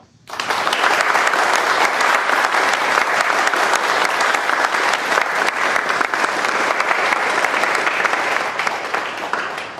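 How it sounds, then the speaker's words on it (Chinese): A room full of people bursts into sustained, loud applause welcoming a new head of a research centre, dense clapping that holds steady for several seconds with no speech over it. "鼓掌"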